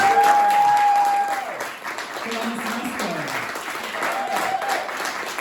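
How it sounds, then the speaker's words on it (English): Sustained applause from a concert audience greets the performers at a recital, a dense steady wash of clapping that swells and then eases slightly, with a voice calling out over it. "let's please just give another round of applause to all of our performers"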